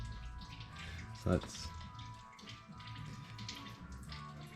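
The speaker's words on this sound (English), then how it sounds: "So I'm just draining out the coolant first" Coolant draining out of a 2006 Subaru WRX engine during an EJ205 engine swap, a faint steady trickle with a brief louder splash early on, under someone talking.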